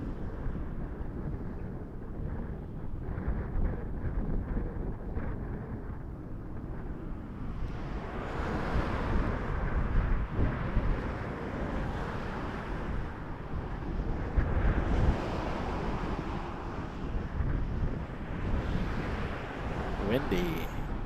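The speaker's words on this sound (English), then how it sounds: "Windy." Strong wind rumbles and buffets against the microphone in a steady, heavy roar that swells stronger partway through, with faint airport tower radio chatter underneath, at Toronto Pearson Airport.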